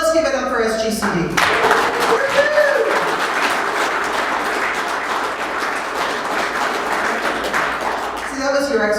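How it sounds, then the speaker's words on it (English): Audience applause at the SGCD gathering: a sustained burst of clapping and cheering from a large crowd, filling the room for several seconds before fading, with voices rising at the start and end. "It felt pretty good to get that applause, right?"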